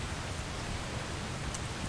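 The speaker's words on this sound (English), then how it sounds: "It always rains when I go to sea." Steady rain falls at sea in the game Atlas, a dense, even hiss of drops with no breaks or thunder, constant throughout the short stretch.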